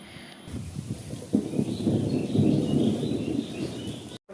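Heavy morning rain pours down around a rooftop, a dense, steady roar swelling after a brief quieter start, with faint bird chirps above it.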